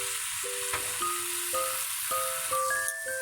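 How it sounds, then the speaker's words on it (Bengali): Milk is poured into bottle gourd shukto in a pan, and a soft, steady sizzle hisses beneath louder background music playing stepped tones. "এবার আমি দিয়ে দিচ্ছি এখানে এই কাপ দুধ"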